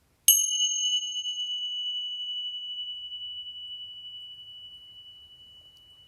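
A single meditation bell struck once, loud and close, its clear high tone ringing out and fading slowly over several seconds into silence.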